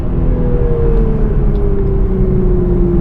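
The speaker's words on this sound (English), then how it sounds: "We've got oodles of power from this BMW straight 6." A Toyota GR Supra 3.0 with a BMW straight-six engine climbs a steep Vancouver hill, its engine a loud, steady, close droning hum under acceleration, the tone gently shifting, with no voices.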